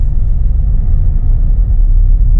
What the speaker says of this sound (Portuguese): vou deixar o carro em D, acelerando normal